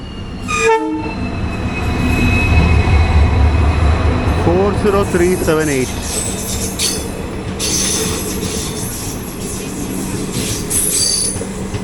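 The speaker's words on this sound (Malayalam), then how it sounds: "നമ്മളെ കുറച്ചധികം നേരം ഇവിടെ പിടിച്ചിട്ട് ഇത് അടുത്ത ട്രെയിൻ വരുന്നു" A diesel-hauled Amaravati–Tirupati Express rumbles past loudly and close, its horn blaring and wheels screeching against the rails, with steady heavy clatter throughout.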